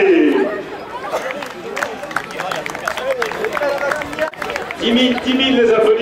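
Crowd at a league challenge event clapping for all the participants, a thick wash of applause mixed with chatter and cheering voices, steady and fairly loud throughout.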